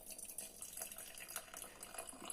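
Tea being poured into a cup at a home breakfast table, a steady close trickle of liquid running without a break and with no talk over it.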